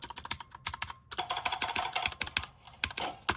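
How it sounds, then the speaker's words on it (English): Quick, uneven typing on a Redragon K617 Fizz keyboard produces bright, clicky keycap strikes in a dense patter, with a short pause partway through and no voices. "Maybe it's just me, but all the keycaps have a different sound."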